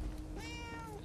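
A cat in the video game Murdered: Soul Suspect gives a single clear, rising-and-falling meow in the middle, over low ambient game noise.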